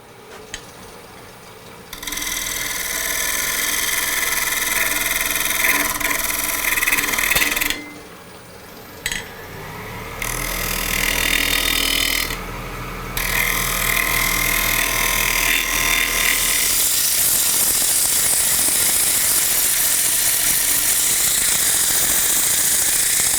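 A wooden bowl spinning on a lathe while abrasive paper rubs against its outside, giving a steady loud whirring hiss with two brief dips as the sanding pauses, ending in a harsher, brighter scrubbing stretch.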